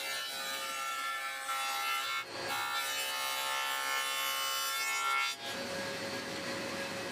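Power saw blade cutting a 3/4-inch rabbet along the edge of a wooden piece for a mini wooden kitchen cabinet, a loud continuous whining drone with two short dips as the wood is pushed through, no voices.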